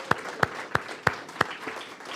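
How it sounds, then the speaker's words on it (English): An audience gives a round of applause for the sound team at a Sunday church livestream, heard as five or six separate, fairly loud claps at an even rhythm with no talk. "So let's give our sound team a round of applause"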